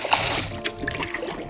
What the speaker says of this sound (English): Rinse out our pitcher.